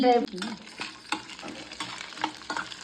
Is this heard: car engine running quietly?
no